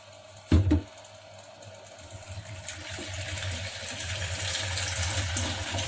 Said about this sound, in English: we're just going to wash our hands the way I just showed you